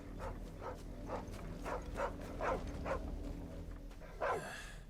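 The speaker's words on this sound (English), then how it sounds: "There's a dog." A dog in Final Fantasy XVI barks repeatedly in a steady rhythm, about eight sharp moderate barks spread evenly over a few seconds, the last one slightly louder, over a low background hum.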